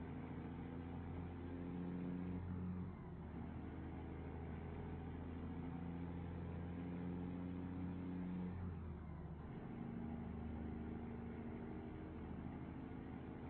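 Truck engine in a trucking video game pulls hard with a steady low drone, dipping briefly around each gear change, then climbing again, running quietly and evenly throughout with no talk over it.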